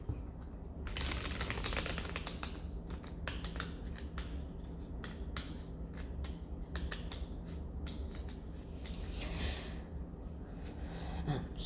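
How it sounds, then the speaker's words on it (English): A deck of cards is shuffled in a quiet room, producing a dense run of rapid crisp clicks and riffling flutters over a low background hum. "I'm going to shuffle this deck once more and then clear it"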